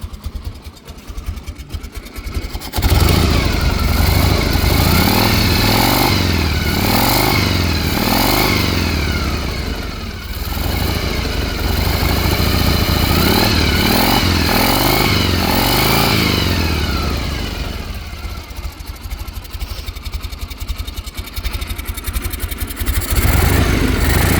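A 1980 Harley Davidson FLT Tour Glide with a Shovelhead engine starts and idles while warming up, its loud, close, uneven thumping running steadily for over twenty seconds.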